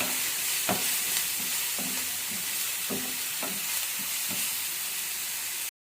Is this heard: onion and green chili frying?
yes